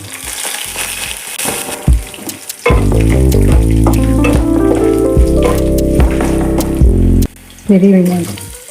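Onions, green chillies, ginger and garlic fry in hot oil for coriander chutney, with a steady loud sizzle and some stirring scrapes. It briefly cuts out near the end, then resumes.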